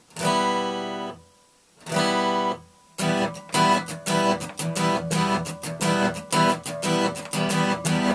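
Guitar chords strummed in short, choppy bursts, each stroke cut off sharply by muting, giving a steady percussive rhythm after two longer ringing strums.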